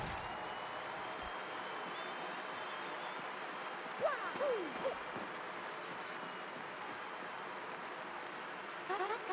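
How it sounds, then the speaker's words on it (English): Crowd cheering in the Glitz Pit fighting arena of the game Paper Mario: The Thousand-Year Door, greeting the Great Gonzalez. A steady, moderate roar carries on throughout, with a few sharp chirping game effects near the middle and at the end. "The crowd is going wild for Gonzalez"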